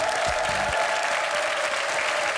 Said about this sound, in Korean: 박수 보내주세요